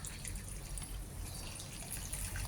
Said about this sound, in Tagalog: Punta po ako sa harap dahil meron po akong didiligan dito